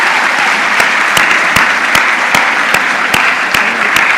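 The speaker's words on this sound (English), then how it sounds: "Let's give them a round of applause." Sustained audience applause fills an award ceremony at the Kenya National Research Festival 2024, a dense steady clatter of many hands with a few sharper claps standing out, loud and continuous throughout.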